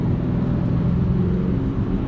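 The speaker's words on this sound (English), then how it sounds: "Now I'm getting more engine noise." A 2021 Acura TLX engine in sport mode hums steadily from inside the cabin, a continuous low drone with even loudness and no talk over it.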